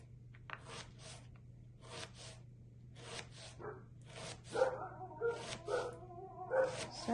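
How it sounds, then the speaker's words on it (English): Dogs bark in short repeated bursts at a distance, a few higher yips and whimpers mixed in, over a steady low hum. "My doggy alarms are going off."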